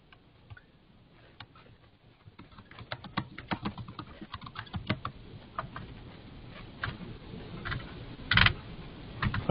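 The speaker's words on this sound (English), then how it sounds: "Somebody is typing." Someone types on a computer keyboard during an online Q&A session. Faint, irregular clicks and taps grow busier and a little louder over several seconds, heard alone without speech.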